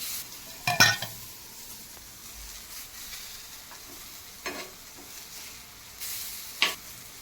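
Gram flour vadi fry in oil over a high gas flame, a soft steady sizzle running quietly underneath a few sharp utensil clinks and scrapes against the pan.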